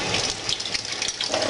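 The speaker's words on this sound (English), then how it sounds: "So we'll rinse our teaspoon off there." Tap water gushes while a teaspoon is rinsed under it at a kitchen sink, a brief close, steady splashing rush with no talking.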